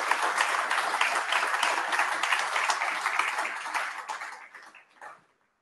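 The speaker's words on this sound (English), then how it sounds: "So please give him a big round of applause." An audience claps for Barry Keegan at a network operators' gathering, a dense, even patter of many hands that holds steady for several seconds, then thins out and trails off to silence.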